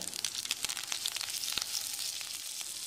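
Curry leaves crackling and sizzling in hot oil in a pan, with steady, fairly faint frying hiss and sharp spitting pops, no voices.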